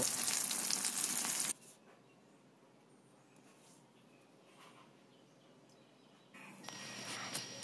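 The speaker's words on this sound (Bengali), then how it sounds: "এবার বেগুনগুলোকে তেলের মধ্যে ভেজে নেব।" Eggplant frying in oil: loud sizzling at the start, dropping to a quiet low crackle for several seconds, then the sizzle rises again near the end.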